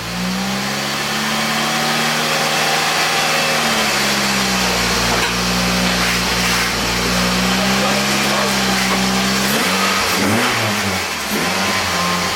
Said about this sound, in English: Sound like you want to do a little burbling going on.